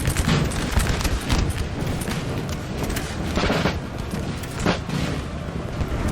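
Dense battle din from Napoleon: Total War, with continuous musket volleys and booming artillery fire rolling over one another for several seconds, loud and steady with no talk.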